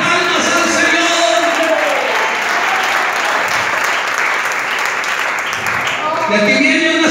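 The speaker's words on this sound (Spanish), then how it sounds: "Fuerte esta ofrenda de palmas al Señor" A church congregation claps loudly and steadily during a sermon, a dense, sustained wash of applause that fills the room without letup.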